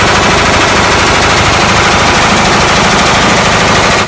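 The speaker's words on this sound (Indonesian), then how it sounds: "Ada tembak-tembakan Nerf gun." A toy Nerf gun firing in a fast, continuous, very loud rattling stream, close and harsh, filling the whole moment without pause.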